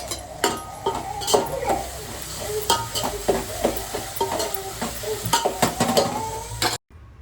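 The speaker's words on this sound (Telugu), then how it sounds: "ధనియా మసాలా అలాగే కొద్దిగా కొత్తిమీర కూడా అయితే వేసి మరి ఇంకొకసారి అయితే మిక్స్ చేసుకుందామండి" A spoon stirring rice with coriander masala and vegetables in a metal pot for veg pulao, with repeated scraping clinks and knocks against the pan in an uneven rhythm, close and moderately loud.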